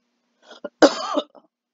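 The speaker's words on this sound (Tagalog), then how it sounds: "Ubo lang konti." A short burst of coughing and throat clearing, close and fairly loud, with a few small catches before and after.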